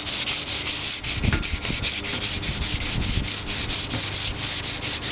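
A flat sander working over a metal art piece of a Maytag Model 72 gas engine stand, a steady close rasping rub with rhythmic pulses and no talking.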